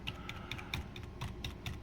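Keys tapped on a dusty computer keyboard during a hard reset, a quick run of about eight light, close clicks repeatedly hitting the F2 key, with no talking.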